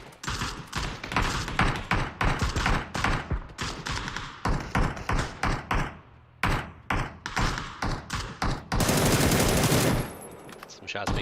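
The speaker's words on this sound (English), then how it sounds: "Shots being shot out there by Morns." Rapid gunfire in a collegiate esports match, with repeated bursts of automatic shots and heavy thumps in a choppy rhythm, briefly pausing, then a dense sustained barrage near the end.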